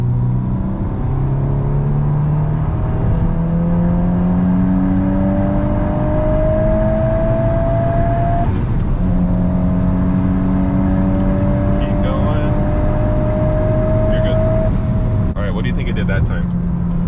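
A manual MK8 Golf R with a Pmax turbo races a Toyota Supra 3.0 on a 60 to 130 pull in fourth gear. Loud engine drone climbs steadily in pitch, drops at a single shift, then rises again with faint talk under it.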